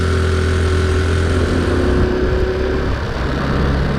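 A Honda C90 motorcycle with a new carburettor, gear shifter and fuel hose on a ride, its small engine droning steadily and close, with the hum shifting slightly partway through as if changing gear.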